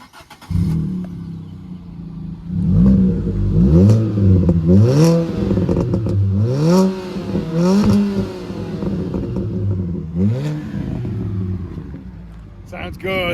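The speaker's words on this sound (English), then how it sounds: "let's start up the mighty Panda and give it a few revs" A Fiat Panda 100HP engine starts and revs repeatedly, rising and falling in several bursts of throttle, loud and close, with a voice speaking briefly over it.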